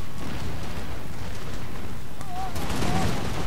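Musket volleys between Russian and French line infantry in Napoleon: Total War, a dense continuous crackle of massed gunfire with scattered distant booms, rolling on without pause.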